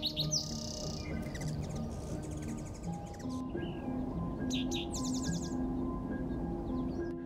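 Wild birds chirp and tweet at a wetland, their high, scattered calls carrying over a steady outdoor background for the whole stretch, with no voices.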